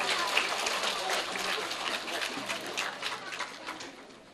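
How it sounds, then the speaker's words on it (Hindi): Crowd of people clapping loudly and steadily at a government primary school award ceremony, dense continuous applause that tapers slightly toward the end. "जोरदार तालियां भाई"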